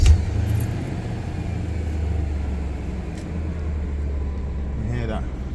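A BMW E39 M5 engine turns over and settles into a steady, deep idle rumble, loud and close, with a brief faint voice near the end.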